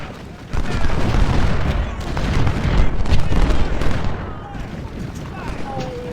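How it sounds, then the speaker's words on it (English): Artillery rumbles through a Civil War video game battle, dense booming fire rolling continuously with overlapping blasts and a busy battlefield din throughout. "The artillery's really hammering route."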